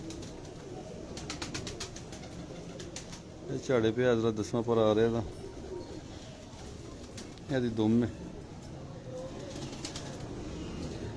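Pigeons at a loft coo softly and continuously in the background while someone talks up close in two short spells, with a brief flutter of wings.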